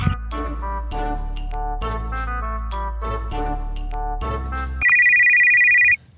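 A mobile phone ringtone plays a repeating melodic tune, then shifts to a sustained electronic ringing tone that cuts off abruptly, loud and close with no voices over it.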